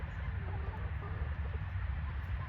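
Chickens clucking softly on a farm, faint scattered clucks over a steady low rumble of background noise.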